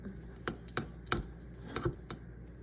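Red food coloring is stirred into keto sugar cookie icing in a bowl, heard as a series of about six distinct close taps and scrapes in an irregular rhythm, with no talking.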